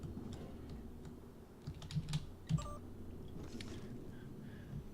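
A Mimic creature typing on a computer keyboard in the game Prey: Mooncrash, a few sparse, faint clicks and taps with beeps scattered over a low ambient hum.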